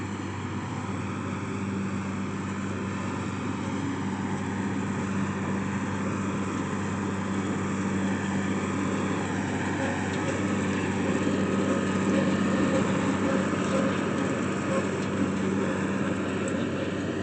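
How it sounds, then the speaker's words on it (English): A tractor mows grass with a steady, droning engine hum and a low mechanical rumble, running continuously and unbroken at moderate volume throughout, with no voices over it. "I'm gonna mow all of this and this."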